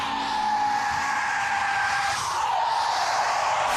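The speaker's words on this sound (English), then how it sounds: "With no friction, hitting standard brakes just locks up the wheels and cars skid and slide" A car skids and slides across an icy road with no grip, its tires hissing in one loud, continuous screech that holds steady for several seconds, with no talk over it.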